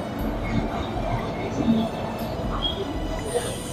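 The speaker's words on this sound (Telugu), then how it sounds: "ట్రైన్ అయితే వచ్చింది." A Narsapur–Nagarsol train pulls in alongside the platform of a clean, renovated railway station, giving a steady low rumble with a brief metallic squeal while voices murmur faintly in the background.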